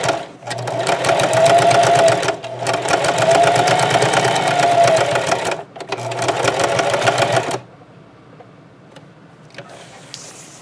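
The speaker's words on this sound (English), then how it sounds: "So I'm going to set my stitch length to 2, my width about 5, my machine to zigzag." A sewing machine runs a zigzag stitch along a lemon placemat tote in three loud, rapid bursts of mechanical chatter with brief gaps, then stops, leaving quiet handling sounds.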